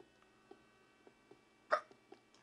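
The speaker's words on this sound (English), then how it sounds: "I hiccup again." A single sharp hiccup from a person playing Minecraft pops out close and clear, set against faint, sparse game ticks and taps.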